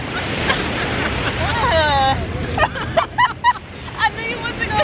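Ocean waves washing in at the shore, a broad rushing surf under lively talk and laughter from people nearby, with some wind buffeting the microphone.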